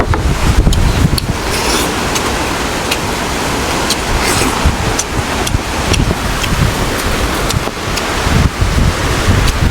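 Strong typhoon wind roars and buffets the microphone, a loud, continuous rushing with gusty bursts throughout.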